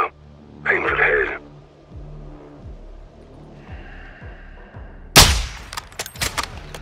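Sniper rifle shots in Modern Warfare 2, a sharp loud crack standing out near the end after a burst of mid-range noise, over a low rhythmic background bed.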